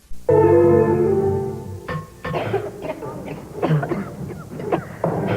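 A single loud cough, followed by more coughing and throat clearing in rough bursts, close up.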